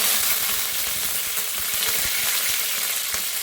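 Curry leaves crackle and sizzle loudly in hot oil for an onion sagu, a dense, continuous frying hiss with small pops throughout, close up and without speech.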